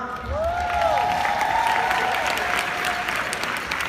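A corporate crowd applauds its CEO and founder with sustained clapping and some cheering, while a voice talks over the noise and a few tonal whoops rise above it.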